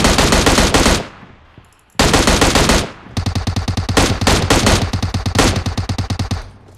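Close, loud automatic gunfire from nearby fighting in the mobile game PUBG Mobile comes in rapid bursts, first two long volleys with a short pause between, then a string of quick repeated rounds.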